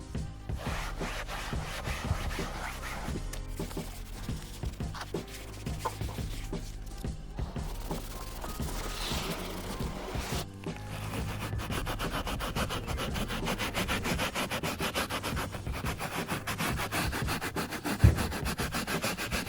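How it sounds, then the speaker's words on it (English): A soft nylon brush scrubs the damp upholstery of an Alfa Romeo Giulietta car seat, giving a steady, continuous rasping rub close by, with no talking throughout. "So as much as this is one of the softer type of, you know, nylon brushes, it actually still seems quite abrasive."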